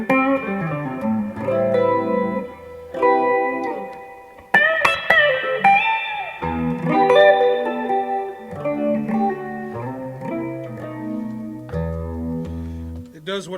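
An electric guitar runs through a vintage 1970s Phase 100 phaser pedal, playing chords and single-note phrases that carry a sweeping, swirling tone with pauses between phrases and no talking.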